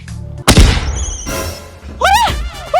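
A sharp, loud firecracker bang bursts out during Diwali in a village, followed by crackling and rumbling, with voices heard around it.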